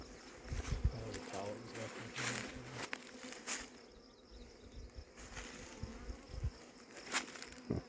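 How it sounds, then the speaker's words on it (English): Agitated honeybees buzzing around a hive, a steady close insect hum with darting passes, broken by short bursts of people talking nearby. "That one hive got a little agitated."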